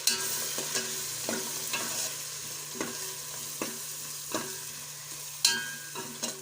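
A spoon stirs spices into an egg biryani mixture frying in oil, giving a low steady sizzle with repeated soft scrapes and taps against the pan at a relaxed, irregular pace, nearby and without speech.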